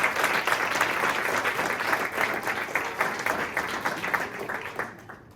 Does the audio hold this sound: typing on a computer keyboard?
no